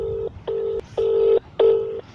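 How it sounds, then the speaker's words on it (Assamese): A mobile phone rings close by, repeating steady electronic tone bursts in a regular on-off pattern, fairly loud, with no one talking. "ফোনটো ৰিং কৰিছে শুনিছে আপোনালোকে নিশ্চয়"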